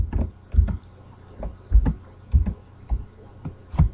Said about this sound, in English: typing this thing on this computer is ridiculous